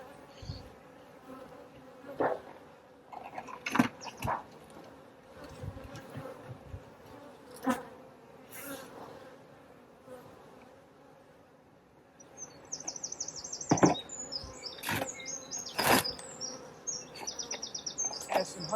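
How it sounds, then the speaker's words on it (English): Bees fly around a beehive topped with a honey super in a buckwheat field, a steady close buzz with individual insects zipping past the microphone, and some bird chirps coming in toward the end. "There's a few bees flying now."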